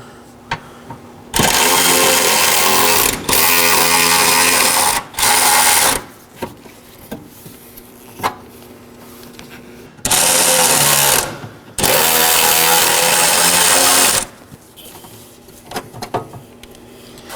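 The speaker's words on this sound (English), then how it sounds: "Now I'll be using a 12mm to remove those bottom nuts." A power ratchet or impact tool spins off the bottom 12 mm nuts on a 2013-2019 Nissan Sentra front radiator support, several loud whirring bursts of one to three seconds with quiet clicks and handling noises between, no speech.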